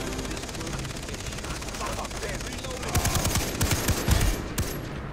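A minigun in Far Cry 3 fires in long, rapid bursts that grow louder and denser in the second half, with muffled voices and other game noise underneath.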